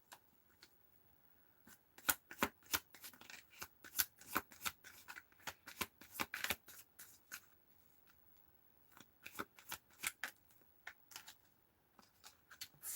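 A deck of cards being shuffled close up, with bursts of crisp riffling clicks and flutters in two main runs separated by a short pause, alone without talk.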